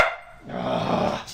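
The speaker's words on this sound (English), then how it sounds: "the dog's barking for some reason, I don't know why" A dog barks and growls continuously at close range, loud and agitated, in a home while a computer is being assembled, with no talking over it.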